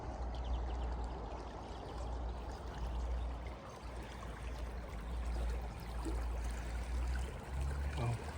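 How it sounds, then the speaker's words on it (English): The River Erewash on the Nottinghamshire–Derbyshire border babbles and trickles like a brook, a steady close gurgling flow of water with a low rumble underneath. "Well, Babbling Brook."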